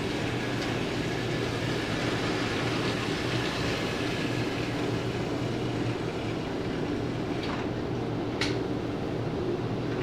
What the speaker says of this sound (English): He's actually going to pick up the end of the train.